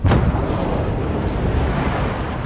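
Torpedo explosions in the naval combat game World of Warships, a loud booming burst at the start followed by a sustained heavy rumble of detonations and water blast.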